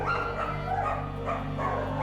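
Dogs at an animal shelter in Lviv, Ukraine, bark and yip in a continuous, overlapping chorus close by, loud and steady with no talking.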